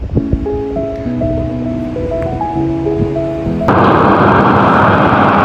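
Soft tones give way abruptly to a loud, steady roar of water rushing from the gates of the Bhadra dam at Lakkavalli, filling the rest of the clip.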